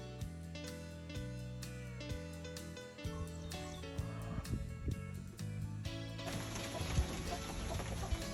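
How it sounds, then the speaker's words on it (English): Hens cluck and call inside a backyard coop as the flock resorts its pecking order, a busy mix of close, overlapping clucks and squawks. "Now that Carol is back into the population, the pecking order has to start again"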